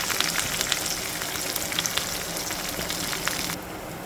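Curry leaves and asafoetida sizzling in hot oil for a tempering on a tawa, a steady, close crackling hiss with small pops that eases slightly near the end.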